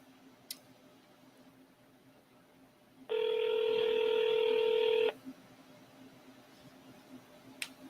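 An outgoing phone call rings once, a steady two-second electronic ring tone over quiet background hiss, with faint clicks before and after and no answer.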